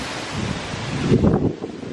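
A gust of wind from Tropical Storm Debby rushes through trees and leaves, a broad noisy whoosh that builds and peaks briefly before easing, buffeting the microphone outdoors.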